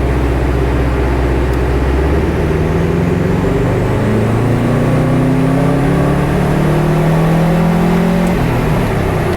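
Car engine on a dynamometer during a performance fuel comparison run, revving steadily upward with rising pitch over nine seconds, loud and close, with a brief dip near the end.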